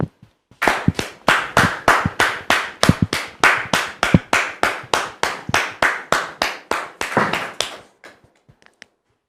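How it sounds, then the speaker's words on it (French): A studio audience claps in unison for a pastor's entrance on a talk show, about two dozen loud, evenly spaced claps in a steady rhythm that then stops, followed by a few faint scattered taps. "Merci très cher public de recevoir le pasteur Jean de Dieu que nous recevons sous vos applaudissements."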